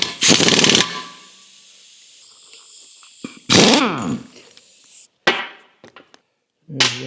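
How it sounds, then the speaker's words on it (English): An impact wrench tightening a nut on a Dana 44 rear axle yoke, with loud close bursts of rapid hammering separated by quiet gaps and a few clanks of tools. "I'll put the impact on there"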